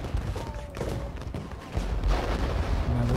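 Gunfire and artillery in a war strategy video game, a dense continuous rumble of shots and booms, with a low heavy swell in the second half.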